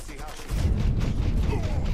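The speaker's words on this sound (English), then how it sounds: "Man, dude with a massive shotgun!" Heavy booming shots from a massive shotgun in the video game Mafia III, a dense burst of blasts and rumble kicking in after a quieter half second.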